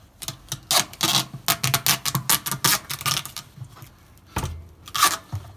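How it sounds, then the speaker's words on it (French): Strong adhesive tape is pulled off the roll and wound tightly around a homemade atlas stone ball, producing a close series of rasping, ripping bursts in an uneven rhythm, with a brief pause before a final few tears. "on va entourer notre boule de scotch"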